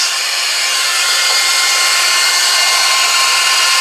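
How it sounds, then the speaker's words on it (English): A heat gun blasting hot air at a guitar body to soften polyester paint, a loud, steady, close whooshing roar that holds constant throughout with no speech. "So I'm going to turn my heater on like this"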